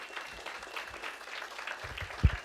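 A stand-up comedy audience claps in a thin, scattered patter that grows a little denser near the end, fairly faint, with a single sharp thump close by just before it stops.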